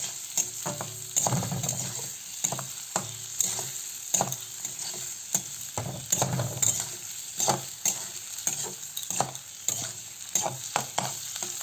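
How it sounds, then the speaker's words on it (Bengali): Chopped garlic sizzling in oil in a pan while a spatula scrapes and stirs it in repeated strokes, a steady hiss under close clattering, cooking mashed-pea ghugni. "এবার নাড়াচাড়া করে নিয়ে ভাজা ভাজা করে নিতে হবে।"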